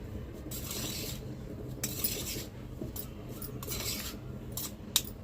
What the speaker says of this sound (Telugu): సో కొద్దిగా దంచి ఇంకా ఎత్తేస్తా.